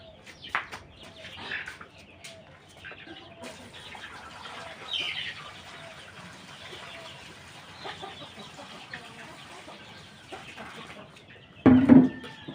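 Chickens cluck softly and intermittently nearby while they are given drinking water, scattered short calls over quiet background, with one louder burst of clucking near the end.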